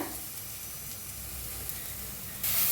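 Turmeric sizzles in a little oil with roasted spices for Mumbai-style vada pav potato filling, a steady close frying hiss that swells briefly louder near the end.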